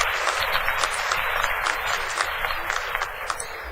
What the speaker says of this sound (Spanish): les brindamos un fuerte aplauso a esta delegación